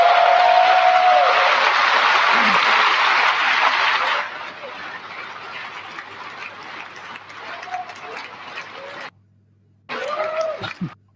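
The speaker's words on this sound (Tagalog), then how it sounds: "Panay ang palakpak" An audience at a public speaking event applauds, loud dense clapping that drops to a thinner, quieter patter and then stops, with a brief burst returning near the end and a voice calling out.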